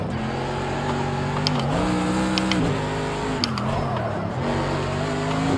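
A race car engine in the VR video game Project CARS 2 whines loudly and steadily, its pitch dropping sharply as it brakes hard into a corner, with brief squeals and clicks over the droning motor.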